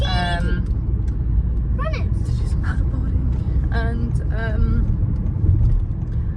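Steady low road rumble from inside a moving car on the way to go paddleboarding, continuous and close, with people chatting over it.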